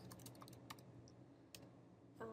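Computer keyboard keys tapped in a quick, irregular burst of clicks, faint and close, with no voices.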